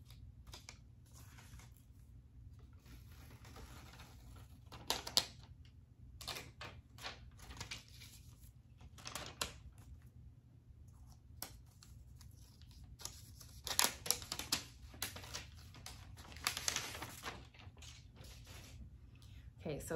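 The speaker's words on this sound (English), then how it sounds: "now it is time to unwrap the" A new 2021 iPad mini being unwrapped, with faint scattered crinkles, tears and clicks of packaging against a quiet room and a person talking softly.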